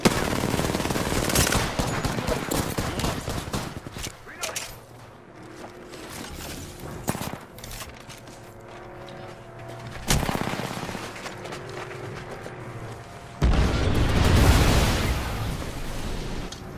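Sustained automatic gunfire in Apex Legends, loud and dense, with heavier sharp blasts near the start, middle and end, continuous combat noise and no talk.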